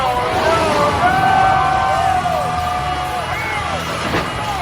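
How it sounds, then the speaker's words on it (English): A custom-built Shockwave truck races past a fighter jet, a loud continuous roar with a whining tone that bends downward as the vehicles sweep by, and a crowd and announcer are faintly mixed in. "Did that truck just drive past a plane?"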